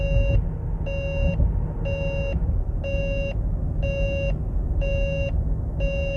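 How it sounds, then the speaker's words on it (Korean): A car's lane keeping assist warning sounds during highway cruise control driving: a steady series of about seven identical electronic beeps, roughly one per second, loud and clear over a constant low rumble of road noise. "경보음이 이제 지속적으로 이제 발생을 하네요"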